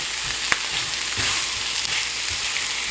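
Carrots and potatoes sizzle steadily in a hot pot, a dense, even frying hiss with a few soft clicks of stirring, close and loud with no voices.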